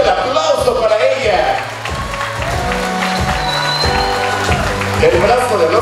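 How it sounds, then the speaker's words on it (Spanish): Audience applause and cheering for Amber, introduced as the princess of the night at a celebration, with steady clapping and crowd noise running under background music throughout. "¡Fuerte el aplauso para ella!"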